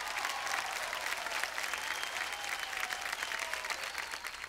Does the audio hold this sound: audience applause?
yes